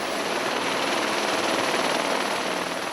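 A helicopter hovers and manoeuvres during a search for a missing hunter, heard as a steady, broad rotor and engine roar that holds constant and fairly close for a few seconds, with no voices.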